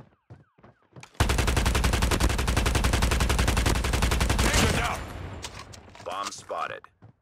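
Sustained rapid automatic fire from the BK57 assault rifle in Call of Duty Mobile rattles loudly for about four seconds, then trails off into scattered game effects and brief voice callouts.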